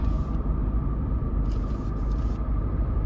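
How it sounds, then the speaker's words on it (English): A 2023 Jeep Wrangler Rubicon 4xe, a 2.0 turbo four-cylinder plug-in hybrid, drives along with a steady, dense low rumble of road and cabin noise, plus brief hissy bursts partway through. "So driving the Wrangler Rubicon 4xe, driving dynamics, of course it drives like any typical Jeep"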